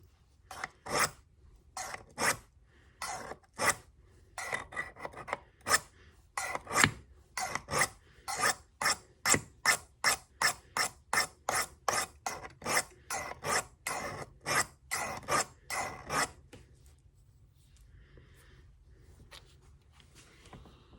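A knife is sharpened with quick, evenly paced rasping strokes, roughly thirty close, crisp scrapes in a steady rhythm that stop suddenly, followed by a few seconds of quiet.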